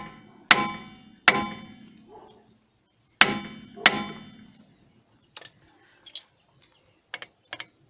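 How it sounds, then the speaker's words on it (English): Hammer striking a chisel to knock out a rear brake part on a 2002 Hyundai Sonata: four loud, ringing metallic blows with pauses between, then a run of lighter, quicker taps and clicks. "if all else fails, we will chisel it out of there"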